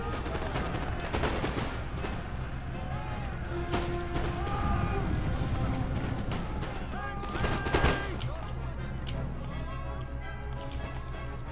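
Canister shot artillery volleys crack and rattle across a busy Empire: Total War battlefield, with repeated gunfire bursts and a sharper cluster near the end over a constant battle din, while someone talks throughout.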